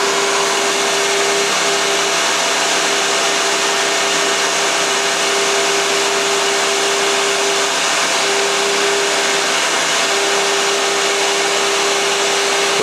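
A scratch-built mini Fadal VMC 15 CNC mill spinning at 6,000 RPM cuts a chamfer around the top edge of a part, giving a loud, steady whirring hum with a constant tone throughout.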